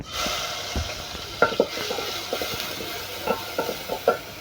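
Onion and garlic fry in a little oil in a pan, a soft steady sizzle broken by several stirring scrapes and knocks.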